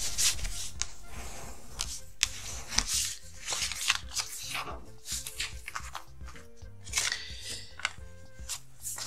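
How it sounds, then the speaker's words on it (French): A paper card being folded corner to corner, pinched and creased, giving close, busy rustling and scraping with short taps and crinkles running steadily throughout, and no voice. "vous faites bien coin à coin, vous pincez et vous marquez bien votre pli."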